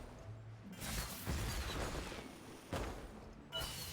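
A firework bursts during a Lunar New Year event in an online video game, with several dull booms and a crackling, hissing spray that is moderately loud and has no speech over it.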